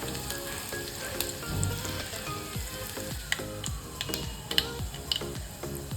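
Chopped garlic and mustard seeds fry in hot oil with a steady crackling sizzle and scattered sharp pops, heard under a looping background music track.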